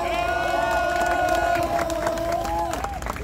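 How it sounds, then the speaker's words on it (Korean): A crowd cheering and whooping at an outdoor election campaign rally, loud sustained shouts and voices ringing out together, with scattered claps and a few voices carrying over the din. "다시 한번 큰 박수 부탁드립니다"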